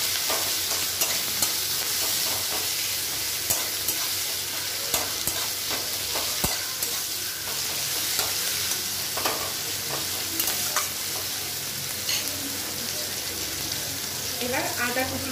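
Chopped garlic and onion fry in a pan for a fish stuffing for stuffed pointed gourd, a loud continuous sizzle with irregular stirring scrapes and clinks close by.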